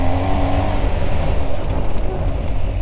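BMW GS 1250 motorcycle engine running hard under throttle, a loud, close, continuous low rumble with a slightly rising roar, steady through the whole stretch.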